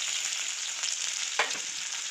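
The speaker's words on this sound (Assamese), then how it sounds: "এতিয়া পিঁয়াজখিনি দিয়া হৈছে।" Onions go into hot oil for an Assamese pork and vegetable mustard dish, giving a steady bright sizzle and a short burst of spattering midway, close up with no voices.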